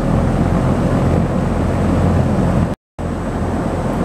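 A Sturtevant size 8 Design 5 propeller fan runs on a display stand, a loud, steady broadband rush of moving air with a faint constant tone. It cuts out for a split second, then resumes unchanged.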